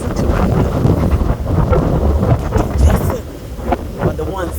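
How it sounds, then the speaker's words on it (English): Strong wind buffeting a boat crossing open ocean on a rainy, windy day, roaring loud and steady against the microphone with gusty surges, over the rumble of the water and the hull. "not one of the best times to be crossing the ocean. It's windy."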